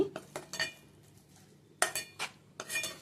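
A metal spoon stirs ponnaganti leaf and tomato curry in a pan, clinking and scraping in three short bursts separated by quiet pauses, close by with no talking.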